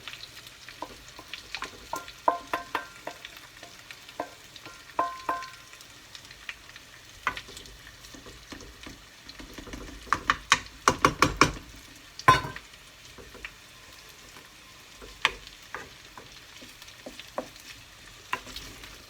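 Bacon lardons frying in a pan beside potatoes for an Auvergne truffade. Quiet, close crackling comes with scattered sharp pops and bursts of spatter, and there is no talk.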